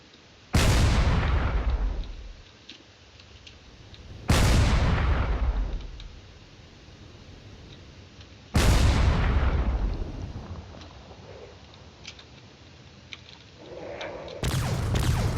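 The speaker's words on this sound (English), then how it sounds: "So now here they are, firing back and forth." Warships, including a frigate and a fleet of corvettes, trade fire in a strategy video game: four heavy booming blasts a few seconds apart, each loud and slowly fading into a low rumble.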